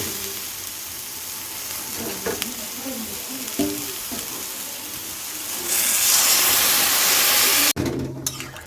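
Ridge gourd fries with turmeric and spices in a pan, crackling under stirring clinks, then water poured in bursts into a loud hissing surge of steam before it cuts off abruptly.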